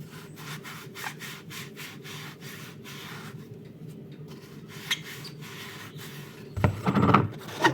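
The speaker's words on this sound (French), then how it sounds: "je frotte. Un petit peu. En faisant des cercles" A saucepan scrubbed with a sponge in circular motions, producing rhythmic, close rubbing strokes that repeat steadily, followed by a brief clatter of the pan near the end.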